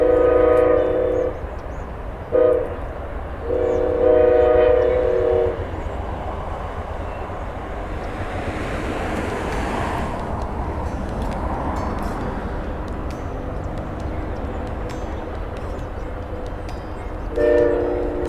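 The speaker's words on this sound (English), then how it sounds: "There's an Amtrak train going along the train tracks." An Amtrak passenger train runs along tracks near Mount Hood and the Hood River area, sounding a loud horn in several blasts at the start and again near the end, with a steady rumble of rolling cars in between.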